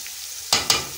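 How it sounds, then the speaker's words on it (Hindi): Boiled chickpeas being roasted in a pan, with a low sizzle followed by two quick, sharp scrapes of a spoon stirring them, close up and without talk. "छोले हमने अच्छे से भून लिए हैं।"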